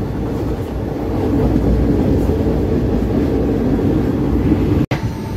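Inside the Delhi to Pune special express, a steady low rumble of the passenger train running on its rails fills the space, broken by a sharp momentary dropout just before the end.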